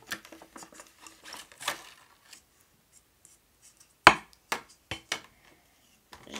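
Scissors pierce and snip open plastic packaging up close, a scatter of faint rustles followed by several sharp, distinct cutting snaps in quick succession.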